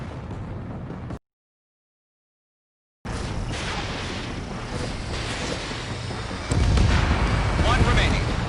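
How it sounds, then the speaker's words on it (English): Heavy explosions and artillery fire pound a harbor in the combat flight game Ace Combat 7, a dense rumbling barrage that cuts out briefly and then returns louder, with radio voices talking over the battle. "The harbor's under heavy fire!"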